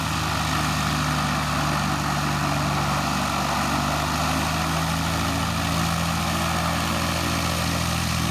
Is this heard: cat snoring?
no